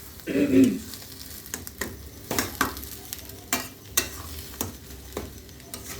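Fish chop filling being stirred in a pan after garam masala and fresh coriander go in, with a series of spoon scrapes and knocks spaced through the stretch over a faint background hiss, and a louder, fuller scrape near the start.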